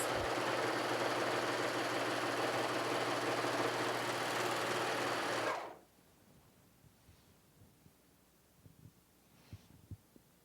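A Pfaff Admire Air 5000 serger runs at speed with a loud, dense, steady mechanical whir for about five seconds, then stops abruptly, leaving quiet room tone with a few faint clicks and taps.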